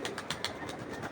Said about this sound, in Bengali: এই যে চায়না খাকি নর আর মাদি দুইটা ডাকাডাকি করতেছে একসাথে